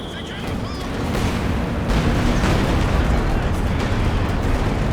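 Flame mortar barrages in Company of Heroes 2, a rumbling wash of explosions and booms building into a steady, loud roar of battle, with a voice talking over it.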